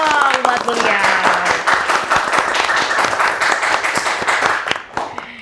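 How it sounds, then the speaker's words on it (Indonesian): A studio audience claps for a guest orthopedic doctor on a health talk show, a burst of individual sharp hand claps that builds and then fades at the end, with some talk mixed in. "tepuk tangan dulu dong buat beliau"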